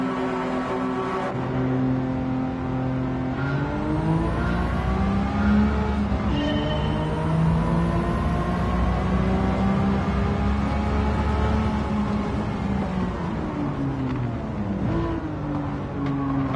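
A car engine held in third gear in Gran Turismo 7 on a circuit, a loud continuous drone whose pitch climbs and falls steadily as the car accelerates and eases off, with no voices.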